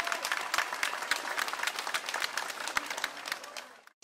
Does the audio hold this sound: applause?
yes